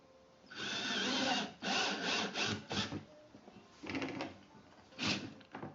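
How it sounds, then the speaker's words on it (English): Power drill boring holes through a plastic kitty litter bucket with a wood block behind the lip, several loud whirring bursts separated by short pauses, close up. "Then drill holes into the bucket."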